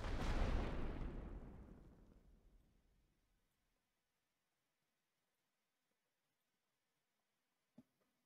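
A rolling artillery barrage in a Great War Western Front strategy game: a loud, deep rumble that fades over about three seconds. Near silence follows, then one short distant thump.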